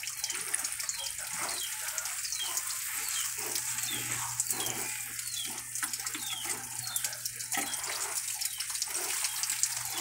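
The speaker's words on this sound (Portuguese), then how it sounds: "E aqui a gente vai molhar 2 vezes ao dia" Water runs steadily onto hydroponic corn seeds in a constant close trickle and splash, with faint chirps in the background.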